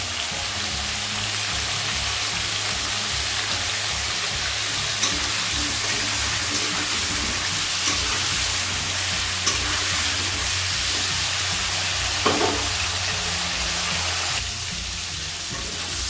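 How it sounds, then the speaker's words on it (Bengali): Cabbage and other vegetables sizzle steadily in a hot pan while a utensil stirs and scrapes now and then, a continuous crackling hiss throughout. "এই সবজিগুলোকে হালকা করে ভেজে নেওয়া হয়ে গেছে আমার।"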